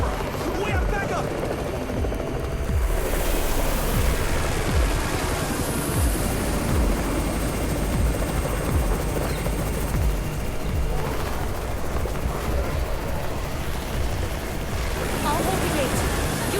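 Helicopter rotors thump steadily beneath a wash of roaring, windy noise in the mobile game Undawn, loud and continuous.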